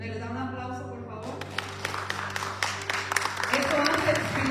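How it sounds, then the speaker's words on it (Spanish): A church congregation breaks into applause after a short spoken line, the clapping swelling into a dense, lively patter that grows louder toward the end. "¿Me les da un aplauso, por favor?"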